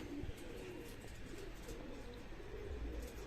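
Pigeons coo softly in a loft, low repeated calls under a constant background hum, fairly faint and with no talking.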